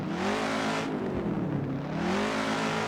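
Subaru BRZ / Toyota 86 with a V8 swap revving deep and loud close by, the pitch dipping and climbing again over about three seconds, with no talking.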